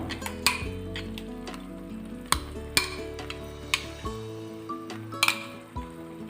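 Cashew and onion paste goes into a pan for a gravy and is stirred, bringing repeated clanks and scrapes of a metal spoon against the pan, fairly close and loud, with faint sizzling underneath and no voices.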